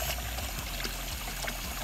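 Water runs through a budget Spotless Rinse deionized water system at about 2.5 gallons per minute, making a continuous, faint pouring hiss that stays even for the whole moment with no talk.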